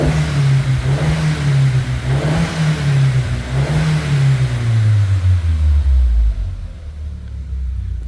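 A 2001 Audi TT Quattro with the 1.8T engine and about 155,000 miles revs up close in a deep, loud rumble, holding with a few surges before the pitch drops and the engine settles back toward idle.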